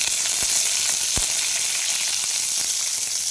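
Curry leaves drop into hot oil and crackle into a loud, steady, close sizzle with a few sharp pops along the way, and no voices.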